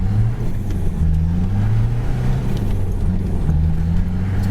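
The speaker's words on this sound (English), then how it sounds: "I've only just taken off in first from the car park where we were just parked" A diesel car with a faulty air filter pulls away in first gear from a car park, its engine droning low and steady with rising and falling pitch as it accelerates, close and continuous.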